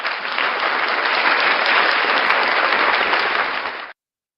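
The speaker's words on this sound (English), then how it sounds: "So a round of applause" Steady applause from an audience at a live breakfast show, a dense wash of clapping held at even loudness for about four seconds before stopping abruptly.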